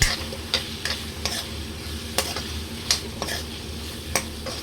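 A spoon stirs ginger paste through chicken curry in a pan, making regular scraping clacks against the metal over a soft, steady sizzle, close and clear with no talking.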